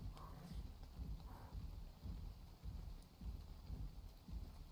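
Faint, steady rain falls in the game ARK: Scorched Earth, with soft rhythmic thuds underneath.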